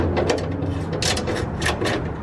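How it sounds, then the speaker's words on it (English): A hand ratchet loosens 10 mm bolts on a BMW M4 during an exhaust valve controller install, giving two short bursts of close, rapid clicking with no talk. "We're gonna pull these bolts off real quick"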